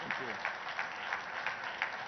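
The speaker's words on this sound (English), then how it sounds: "Let's give a big round of applause for Rakesh." Audience at a conference in Mumbai clapping steadily in a large hall, a dense, even wash of applause with soft rhythmic swells, heard alone for a couple of seconds.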